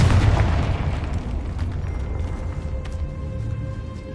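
A blasting-spell explosion in the Hogwarts Legacy video game: a single loud, deep boom at the start that rolls into a long rumbling decay, heard alone with no talking.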